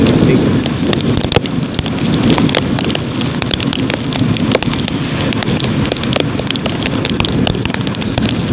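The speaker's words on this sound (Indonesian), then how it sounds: "Ini masih hujan juga, ini rintik-rintik." Light drizzle falls on a flooded village near Sepoyan on a late morning, a dense steady patter of small drops with scattered sharper ticks on nearby surfaces, loud and close throughout.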